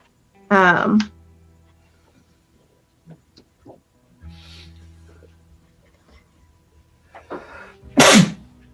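Two loud, sharp human sneezes, one at the start and one near the end, with quiet talking in the stretch between them.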